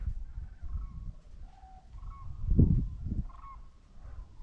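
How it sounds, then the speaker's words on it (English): Sandhill cranes call outdoors near an observation tower, with faint, distant rolling bugling notes repeating over low wind rumble and ambient noise. "Sandhill cranes, they migrate a lot every year, and when they fly south for the winter,"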